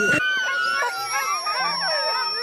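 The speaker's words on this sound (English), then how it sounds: "The dogs needed a good feed the next day, which is never a time of peace and tranquility." Greenland sled dogs howling at feeding time, several overlapping wavering howls and whines from a pack close by, continuous and loud.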